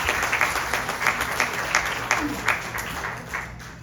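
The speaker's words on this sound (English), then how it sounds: "Let's give him a big round of applause." Clapping at a 50th-birthday yagna gathering rings out in uneven bursts of hands, moderately loud and close, with some talk running underneath.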